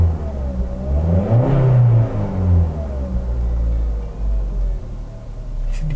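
Engine of a 2023 Suzuki Ertiga Smart Hybrid revved from inside the car, a low muffled rumble that swells around the second mark and then settles into a steady hum, heard alone.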